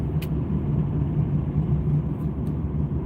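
A car drives along a road, a steady low rumble with a faint engine drone that holds evenly throughout, broken only by a couple of faint brief clicks.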